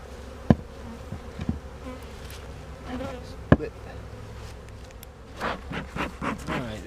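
Honeybees buzz continuously during a hive split, a close, steady drone punctuated by a few sharp knocks and clatters from handling the hive boxes.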